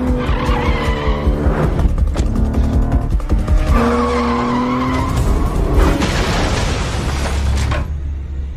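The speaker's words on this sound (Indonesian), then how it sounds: "ia malah kehilangan kendalinya dan menabrak mobil lain" A car skids out of control with screeching tires and revving engine, then a heavy crash into another car, loud and close, with booming impacts and rumbling debris.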